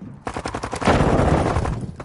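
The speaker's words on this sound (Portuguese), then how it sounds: "Estão atirando em mim aqui." Automatic gunfire in Call of Duty Modern Warfare 2 multiplayer, a loud close burst of rapid shots that runs into a dense continuous roar of fire for about two seconds.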